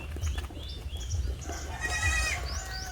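A goat bleats on a farm where goats are fed, giving a wavering cry near the end over a steady low rumble of farmyard background noise.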